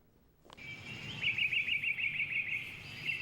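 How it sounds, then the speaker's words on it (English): Birds chirp at a Calgary golf course in early spring, with a steady series of bright, rapid tweets rising over faint outdoor background noise, moderately close and with no talking. "The birds are chirping"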